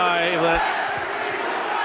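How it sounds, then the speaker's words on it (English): Rugby league crowd at St Helens versus Leeds Rhinos voicing displeasure after a penalty for holding down in the tackle, a dense, moderate murmur of many voices with brief shouts rising from the stands. "Sheer frustration, and the crowd aren't too happy."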